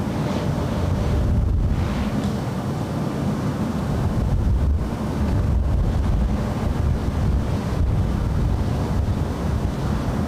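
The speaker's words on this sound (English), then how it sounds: "You already got the wind blowing you around." Strong, steady wind buffeting the microphone at Los Angeles International Airport (LAX) during a big storm, a continuous loud rumbling roar with surf-like gusts for the whole stretch.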